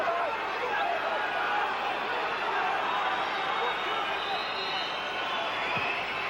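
Stadium crowd at a Manchester United versus Fenerbahce Champions League football match at Old Trafford, 1996, a steady dense roar of voices filling the ground, with a commentator talking over it throughout.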